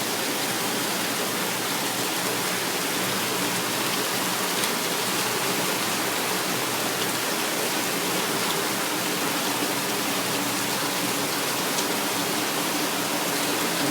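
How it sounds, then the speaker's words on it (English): Mild rain falls at night in a dense, steady hiss that stays even and continuous throughout, with no voices or distinct drops standing out. "you can actually see the rain. I'm sure you can hear it."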